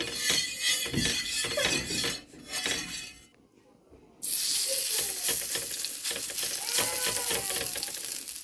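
Gourd leaf fritters frying in oil on a hot tawa, loud crackling sizzle with clinks of a spatula, a brief quieter gap, then the sizzle returns strongly and steadily.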